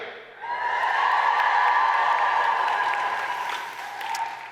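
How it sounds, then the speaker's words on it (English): Graduation ceremony audience cheers and applauds after a call for a bigger cheer, a loud sustained wall of clapping and whoops swelling then slowly easing, with a brief lift near the end. "if you are ecstatic to be graduating, please give each other a bigger cheer"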